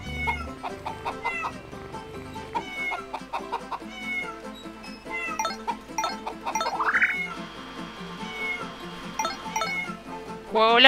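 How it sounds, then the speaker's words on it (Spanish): Cat meowing in the Farm Frenzy 4 farm video game, repeated short meows mixed with chicken clucks and game music, with a longer rising yowl midway and another near the end. "Es desesperante el ruido del gato."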